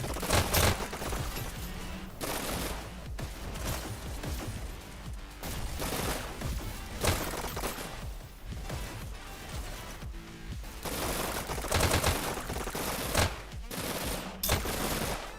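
Video game gunfight with a stapler weapon and an SMG, rapid bursts of automatic fire and sharp shots repeating in clusters throughout, loud and close with brief gaps between volleys.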